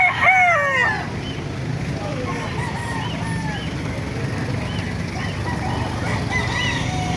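Roosters crow repeatedly at an outdoor chicken market in Bocaue, Bulacan, one loud crow up close at the start and several more farther off, over a steady crowd murmur and rustling.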